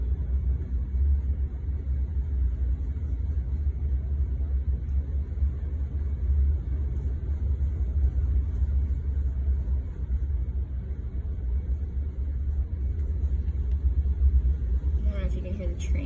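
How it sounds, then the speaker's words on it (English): A train passes by outside during an indoor watercolor session, a continuous low rumble that holds steady and loud for the whole stretch, with a voice talking over it. "If you can hear the train going by right now."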